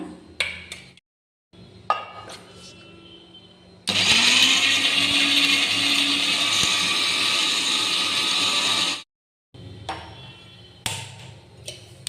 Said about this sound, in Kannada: ಇದನ್ನು ನಾವೀಗ ಗ್ರೈಂಡ್ ಮಾಡ್ಕೊಂಬರೋಣ